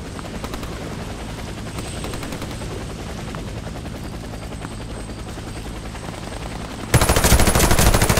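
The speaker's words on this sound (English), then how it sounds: "Helicopter is inbound." A helicopter in the video game Warface makes a steady, loud rotor chop that suddenly swells much louder and nearer near the end, with bursts of gunfire mixed in.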